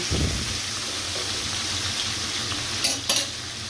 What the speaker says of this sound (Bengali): এই চুলায় আমার মাছ ভাজিটা কিছু ভেজে তুলে ফেলেছি, কিছু আবার দিয়েছি ভাজার জন্য